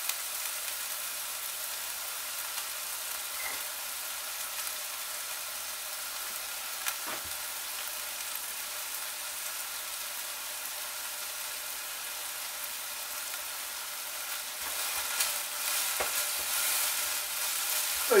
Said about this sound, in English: Kind of sweat and cook your garlic a little bit.